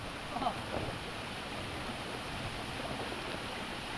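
A mountain stream flows in a steady, constant rush of water, moderately close and even throughout, with faint voices in the background.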